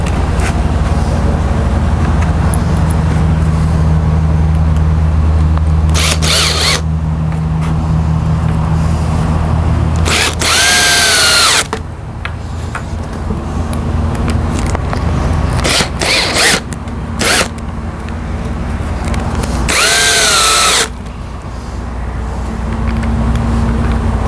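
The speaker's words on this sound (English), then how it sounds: "I'm not pre-drilling, but I'm just angling my screws a little bit to help with so it doesn't split the boards at the end" A drill driving 2.5-inch outdoor deck screws at an angle into boards for a small raised garden bed, two loud whirring bursts of a few seconds each over steady ambient background noise.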